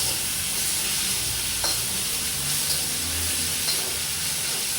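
Ground spice paste for misal being sautéed in a pan: a steady close sizzle and hiss runs throughout, with occasional stirring scrapes and soft clinks.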